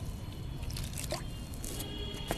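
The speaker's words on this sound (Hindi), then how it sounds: "इसमें भी मैं पानी दे देती हूँ," Water poured onto the soil of a freshly planted potted orange or marigold plant, heard as soft, faint dripping and squishy soaking against a low hiss, with no talking.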